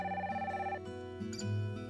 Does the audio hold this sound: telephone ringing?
yes